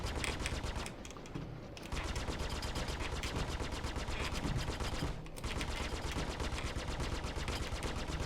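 Repeater cannons on an Aegis ship in the Star Citizen space game fire in rapid, loud, sustained bursts, pausing briefly twice, chewing through a Vandal enemy ship with no talking.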